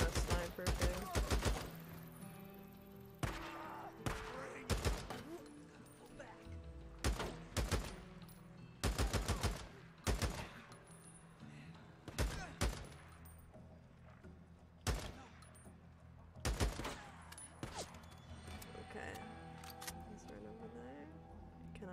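Enemy gunfire in Days Gone, sharp shots and short bursts cracking out at irregular intervals, some loud and close and others fainter, while a player talks throughout.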